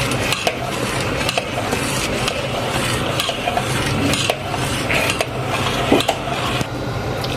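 A spoon stirring and scraping gajrela, a winter carrot-and-milk pudding, in a metal pan, steady scraping strokes with occasional clinks, close and moderately loud, no voices.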